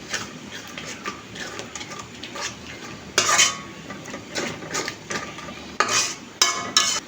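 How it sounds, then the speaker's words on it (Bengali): A spoon stirs roast spice mix with yogurt in a pot, scraping and clinking against the metal in irregular close strokes, with a few louder knocks toward the end. "এখন সবগুলোকে ভালো করে মিক্স করে নেব"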